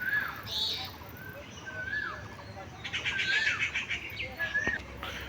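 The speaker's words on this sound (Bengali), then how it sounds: "বন্ধুরা এখন বাচ্চা খাওয়াচ্ছে কালাঙ্কার পায়রা মাদিটা বাচ্চা খাওয়াচ্ছে" Pigeons at a loft, including a female feeding her chicks, give soft calls and chirps at moderate distance, with brief flutters and chirping growing busier toward the end.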